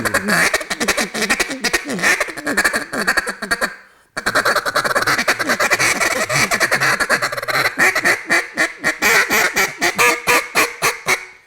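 A duck call is blown in rapid rhythmic bursts, mimicking a flock of quacking ducks, with the tone shifting as hand position opens and closes; loud and close, with one brief pause before a faster chattering run.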